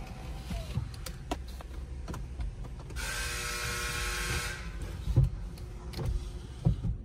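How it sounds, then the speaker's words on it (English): A 4x4 Ford Explorer's power window motor whirs steadily for a few seconds as the windows roll up, amid quiet cabin noise and a couple of soft thumps. "Let all our windows up"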